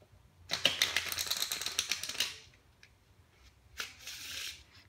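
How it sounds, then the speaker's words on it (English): A riffle shuffle of playing cards: a rapid fluttering burst of cards interleaving, then a few softer taps and a shorter second riffle. "a Riffle Shuffle is a shuffle that you do with your cards like this"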